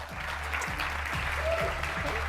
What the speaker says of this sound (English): His name is John Fugelsang, so please give him a big round of applause.